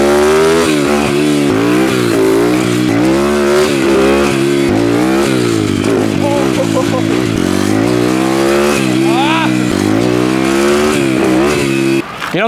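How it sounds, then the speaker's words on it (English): A car engine is revved repeatedly while stationary, rising and falling in loud, sustained pitch sweeps close to the microphone, with brief releases between revs. "I'm just like revving it, and then as soon as I get to the point, letting it go, revving it again."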